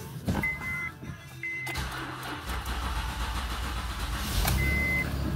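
A 2009 Honda Accord with a newly installed engine cranking and catching, then settling into a steady idle with a few short electronic beeps and chimes over the running motor.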